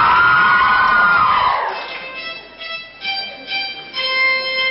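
A crowd at a school stage play of The Princess Bride cheers and shouts loudly at first, then the noise drops away abruptly, leaving faint scattered voices and a sustained musical tone.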